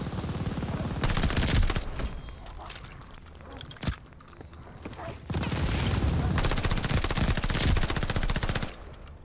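Sustained automatic fire from a PPSH-41 submachine gun in Call of Duty Vanguard, loud and dense in two long bursts with a brief lull and a single sharp bang between them.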